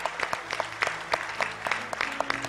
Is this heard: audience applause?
yes